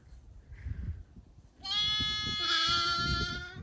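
A lamb lets out one long, loud, wavering bleat close by, following a few seconds of quiet rustling and shuffling.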